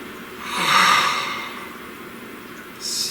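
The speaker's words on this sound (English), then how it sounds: "please take a nice deep breath" One slow, deep breath drawn in audibly through the nose and mouth, rising and easing off, followed by a short, breathy exhale near the end, close and fairly soft with no talking.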